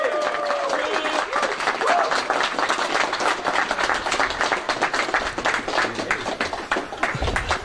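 Loud, sustained crowd applause and cheering for the GUKPT poker tournament champion in Luton, dense clapping continuing steadily with a few whoops on top, no talk over it.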